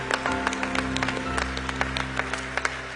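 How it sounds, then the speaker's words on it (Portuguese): Clapping from a church congregation rattles in quick, uneven bursts over a steady sustained musical drone, moderately loud and close. "Aplauda as pessoas que vieram do Marajó."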